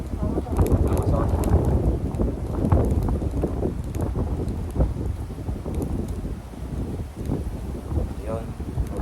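Strong gusty wind buffeting the microphone beside the water while fishing in Japan, a constant rough rumble with people talking over it.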